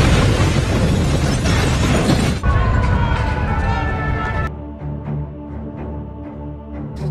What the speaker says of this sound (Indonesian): Norman membuka rompi Leon hanya untuk menemukan sekumpulan granat yang langsung meledak